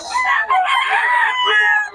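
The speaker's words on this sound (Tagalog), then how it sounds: "Mga stag yung dala-dala ni Boss Perry mga idol." Young rooster stag crowing once in a long, loud, close cock-a-doodle-doo lasting the full moment, clear and strong with no other sound over it.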